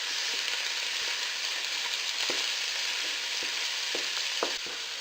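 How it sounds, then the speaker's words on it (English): Mince for a bolognaise frying in a pan, a steady close sizzle broken by repeated scraping and tapping as a spoon breaks up the meat. "with a spoon you just want to break up your mince so you can get as much colour as possible on all the mince"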